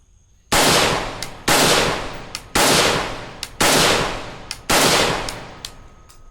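Five loud rifle shots from 55-grain Tula ammunition fired through a Blastphemy muzzle device, spaced about a second apart, each a sharp crack with a long ringing decay, plus faint metallic clinks between shots.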